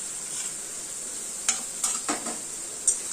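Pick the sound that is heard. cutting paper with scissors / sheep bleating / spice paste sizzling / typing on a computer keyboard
spice paste sizzling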